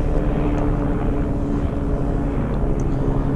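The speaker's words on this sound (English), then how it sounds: "Chopper going overhead." A helicopter passes overhead above a home garden, its steady low rotor and engine drone filling the background continuously and fairly loud throughout.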